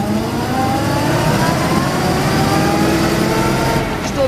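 A 1932 Ford Deluxe Model 18 V8 roadster runs steadily and loud throughout, its engine note holding close and continuous with slight revving swells and no talking.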